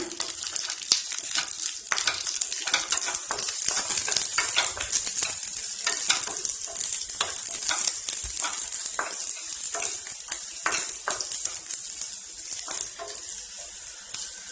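Garlic cloves fry in oil in a pan for a garlic pickle, a loud, continuous sizzle broken by repeated scraping of a spatula stirring throughout.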